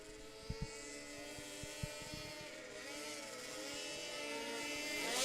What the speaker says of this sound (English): using an Arctic Cat engine in that 40, just like a dirt track sprint car